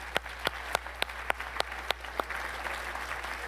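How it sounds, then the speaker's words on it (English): Audience at a D-Day 80th anniversary commemoration applauding the trustees: a few loud, distinct claps close by ring out at a steady beat over a broader patter of crowd clapping, under a constant low hum. "How about a round of applause for our trustees?"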